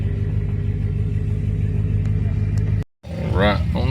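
A car driving onto a trailer at a Chrysler event in Carlisle, its engine a loud, steady, low rumble that cuts out abruptly, followed by someone speaking over renewed engine noise.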